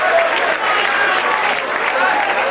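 A discotheque crowd in Bignan applauds Miss Élégance 1997, dense continuous clapping filling the room with crowd murmur mixed in.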